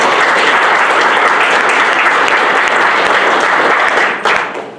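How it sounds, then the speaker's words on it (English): A panel audience claps in a dense, loud, sustained ovation that stays even for several seconds and then tapers off near the end. "Let's give our panelists a round of applause, please."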